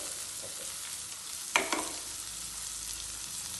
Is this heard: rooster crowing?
no